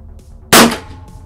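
One loud, sharp shot cracks from a cowboy-style revolver at an outdoor shooting range, close and punchy, with a quick decaying tail and a low hum in the background.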